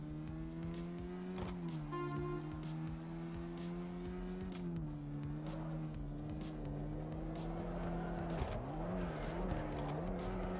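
Drift car in the CarX Drift Racing Online game holding a steady, loud engine drone that wavers with throttle, with tire squeal and skidding growing louder near the end, alone without talk.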